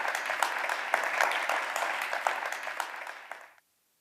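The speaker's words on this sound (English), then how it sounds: "Please, everyone, welcome Mara with a big round of applause." Audience applause at a water-themed conference as a speaker is welcomed to the stage: dense, steady clapping from a crowd that holds for several seconds, then cuts off abruptly.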